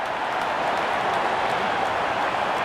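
A cricket stadium crowd roars after a bowler takes a wicket, producing a dense, sustained wall of cheering and applause at an even volume throughout, with no separate voices standing out.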